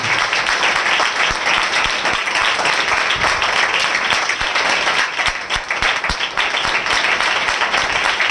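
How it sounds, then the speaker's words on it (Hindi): Steady, dense applause from a large church congregation, continuous and loud for the whole stretch with no voices standing out. "जोरदार ताली देकर स्वागत करें"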